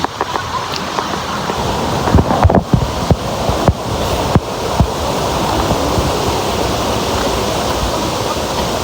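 Waterfall at a tourist spot in Valencia, Negros Oriental, near Dumaguete, a loud continuous rushing roar of falling water with a few sharp knocks early on, no voices.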